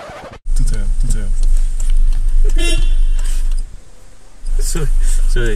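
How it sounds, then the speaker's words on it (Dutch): A car horn honks in short toots right up close inside a small vehicle, a brommobiel, crawling along in a queue, with people talking loudly over the steady engine hum. "Toeter."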